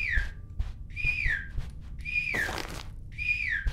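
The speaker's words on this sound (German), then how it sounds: "Ich tu mal ein bisschen pfeifen." A person whistles in short rising-and-falling phrases, four separate bursts, while exploring a horror game's hotel setting. The whistling is clear and close over a low background rumble.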